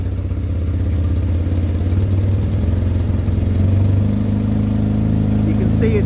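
A motorcycle engine with a heavy flywheel runs steadily near the mic, its low throbbing drone rising slightly in pitch as the revs are raised.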